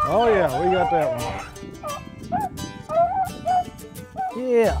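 A hunting dog whimpers and yips in repeated high, wavering cries after a rabbit hunt in Kentucky, close by, while someone talks over it.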